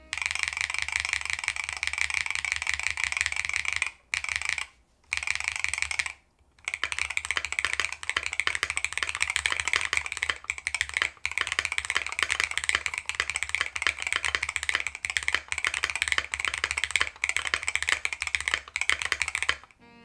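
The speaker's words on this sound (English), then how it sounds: "So this is a very, very stiff, solid typing experience." Rapid, continuous clacking of a stiff NAJA 68 mechanical keyboard typed at a steady pace, close up, with a few brief pauses along the way.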